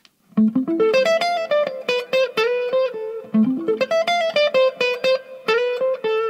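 A distorted electric guitar plays slow, rising note runs, each phrase climbing then settling, repeated twice with sustained tones between picks.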